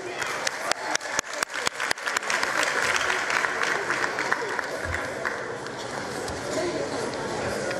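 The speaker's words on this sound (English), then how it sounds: "applause for Ntabiseng" Audience applause at a 2023 matric results announcement ceremony, starting with a few sharp separate claps that quickly swell into dense, steady clapping from a large crowd, sustained and fairly loud throughout.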